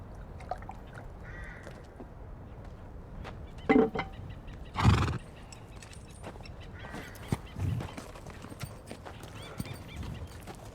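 Horse sounds ring out against an outdoor backdrop, with short bursts that could be neighing amid clip-clop and crow-like calls; faint ambient noise fills the gaps and no one speaks.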